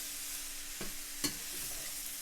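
Shrimp and vegetables in a stir-fry pan as the heat calms down, a soft steady sizzle with a couple of brief stirring scrapes, close and fairly quiet, no talking.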